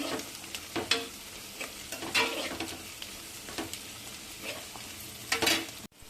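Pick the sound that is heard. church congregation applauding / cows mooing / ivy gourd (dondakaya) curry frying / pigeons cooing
ivy gourd (dondakaya) curry frying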